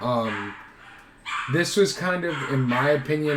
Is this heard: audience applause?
no